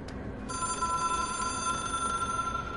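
Hotline telephone ringing in the video game Control, a steady electronic bell ring with sustained bright tones that begins sharply and continues loud and unbroken.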